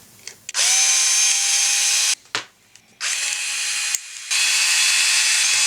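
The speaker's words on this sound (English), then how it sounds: "Just unscrew the saddles." A small power screwdriver unscrews the saddle screws on a Strat tremolo in three bursts of high, steady whirring, each run cut short, with quiet clicks and handling in the pauses.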